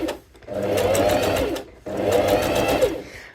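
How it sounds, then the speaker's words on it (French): A sewing machine stitches fabric for a blouse, two close, steady whirring runs with a short pause between them. "Et on va coudre comme ça jusqu'au repère qui nous intéresse."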